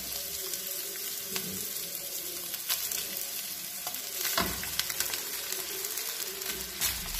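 Cooked rice tumbles into a hot pan of sizzling egg and vegetables for egg fried rice, raising a steady hiss of frying with scattered scraping and stirring clicks.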